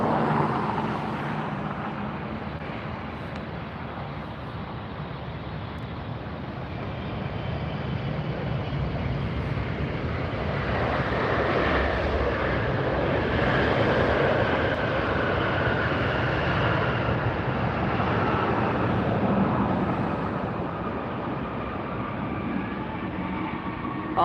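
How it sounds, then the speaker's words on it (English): A British Airways A380 starts its engines at LAX, a rising jet whine and broad roar swelling in the middle and staying loud before easing slightly, heard from some distance outdoors without speech. "can you hear the whine of the A380 engine start up?"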